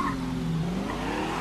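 A car in the video game Mafia 3 is driven in to park, its engine humming steadily with a falling, slightly squealing tone over a short stretch.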